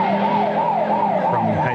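A stolen ambulance's siren wails loud and close in a high-speed chase, rising and falling in a steady rhythm over the engine rumble of the moving vehicle.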